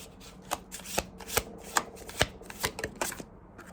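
A deck of tarot cards is shuffled close up, giving a series of crisp riffling snaps and soft flutters in an irregular rhythm, about ten quick bursts with no talking.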